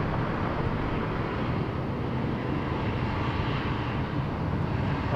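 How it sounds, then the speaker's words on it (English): Qantas airliner lining up on runway 34 left at Sydney Airport, a steady broadband roar of jet engines rumbling continuously at a distance, with no other sounds standing out. "Qantas 23, just put the line up there on runway 34 left, heading to Bangkok"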